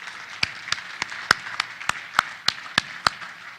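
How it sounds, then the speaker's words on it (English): Sparse, scattered handclaps from a small audience at an energy summit conference panel: about nine distinct, evenly spaced claps ring out alone, with no crowd roar behind them. "So if we could give our panel a round of applause"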